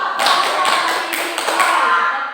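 Hands clap and tap in a quick, steady run during a children's group clapping game in a counseling session, close and fairly loud, with a faint voice underneath.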